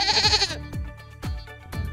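Baby goats bleat in a series of three or four short, wavering cries, close and loud, with no talk over them.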